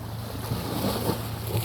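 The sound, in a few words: sea waves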